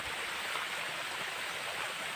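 A small stream in the countryside rushes steadily, a dense, close, continuous hiss of flowing water with no break.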